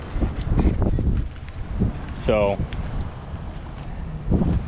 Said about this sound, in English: It's kind of windy and looks like it's about to start raining out here